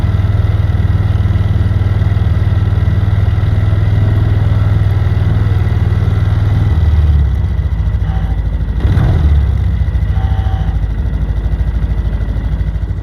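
A small Yamaha Grizzly ATV engine with a dead battery idles steadily with a low, even rumble throughout, with a faint clatter and brief shift in tone near the middle.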